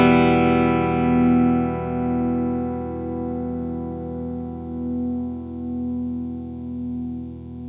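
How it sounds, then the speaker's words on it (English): A single electric guitar strum through an uncovered humbucker pickup rings out loud and full, then decays slowly over several seconds with a sustained, slightly wavering tone and no voices. "All you're going to hear is a strum."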